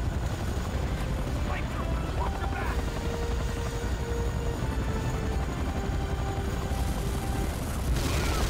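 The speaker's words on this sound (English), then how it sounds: "Another chopper!" A helicopter in the video game C&C Renegade thrums steadily under a player's speech, with in-game gunfire and booms breaking in now and then.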